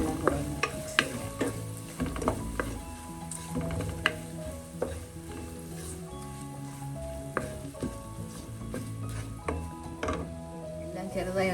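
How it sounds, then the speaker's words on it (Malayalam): Turmeric and spices frying in oil for a white tuna pepper curry: a low sizzle and stirring scrapes sit under steady background music, with no voice. "അത് ഈ ഓയിലൊന്ന് മൂപ്പിക്കാം."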